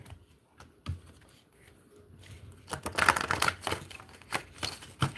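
Playing cards are riffled and shuffled by hand in a series of quick, close, crackling bursts, some louder than others, with no voices over them.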